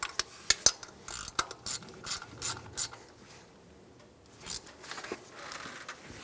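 Ratchet snugging down fuel injector bolts on a 2003-2008 Honda Pilot, a series of quick clicking pawl bursts in short strokes, close and fairly quiet, with pauses between.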